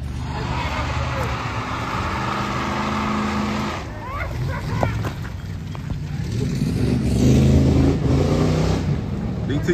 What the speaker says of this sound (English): we got the guys down there racing